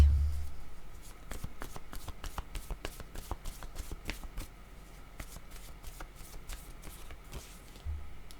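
Tarot-style cards are shuffled and flipped for a reading, giving a steady run of soft riffling taps and flicks through most of the stretch, close and fairly quiet, with no talk.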